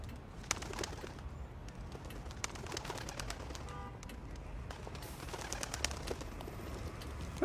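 Pigeons coo in a busy outdoor soundscape, soft repeated calls mixed with scattered sharp clicks and background noise, heard alone without speech.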